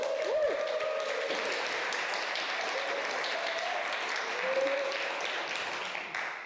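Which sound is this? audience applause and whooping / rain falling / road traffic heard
audience applause and whooping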